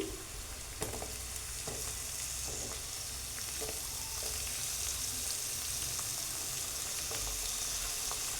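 Onion and tomato sizzle steadily in a hot pan for tomato chitranna, a continuous frying hiss with occasional stirring clicks and scrapes, close and moderately loud with no talking.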